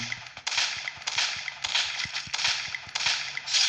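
Rapid gunfire in the Free Fire battle royale game, sharp cracks in quick bursts, some shots sounding nearer and others farther, with a dense bright clatter behind them and no talk.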